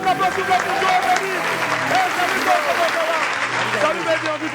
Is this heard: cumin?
no